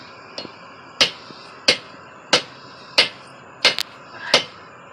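Hammer blows on a layered mokume gane metal billet during a first fusion attempt, six or seven sharp metallic strikes at a steady moderate pace, not hit very hard, close and without talk.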